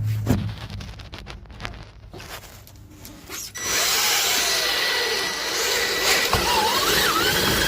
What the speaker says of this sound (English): Can use a couple self-tappers to hold this thing in place.